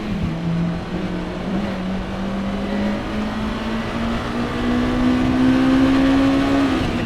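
A Honda Integra Type R revs high while being driven on a rain-soaked road, its engine tone rising steadily over several seconds, loud and continuous beneath a wash of wet road noise.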